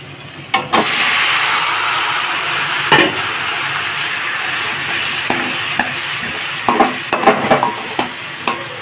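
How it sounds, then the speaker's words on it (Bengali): Boiled pumpkin is stirred into a pan of frying onions and chillies for mashed sweet pumpkin, and a steady loud sizzle hisses throughout while the spoon scrapes and clacks at intervals. "পেঁয়াজ আর লঙ্কাগুলোকে সামান্য নাড়াচাড়া করে নিয়ে এখন দিয়ে দেব সিদ্ধ করে রাখা কুমড়ো।"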